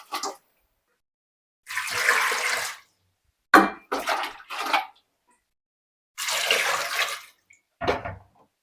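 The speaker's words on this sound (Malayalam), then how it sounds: "ഇപ്പൊ ഇതിൽ ഞാൻ കുറച്ച് വെള്ളം ഇടാം" Water poured from above onto washed potatoes in a pot in a home kitchen, heard as several separate splashing pours of one to two seconds each with short gaps, close and moderately loud, with no talking.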